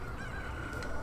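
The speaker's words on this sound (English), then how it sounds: "that loud chicken you were carrying this whole time" A chicken from the video game Ocarina of Time gives a loud, drawn-out nasal call with a steady tone. A few brighter bursts come near the end, and no one speaks.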